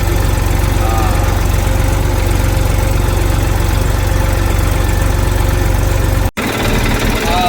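A loud, steady tractor diesel engine drones and rumbles close by during field sowing, briefly cutting out near the end before resuming, with voices faintly under the noise.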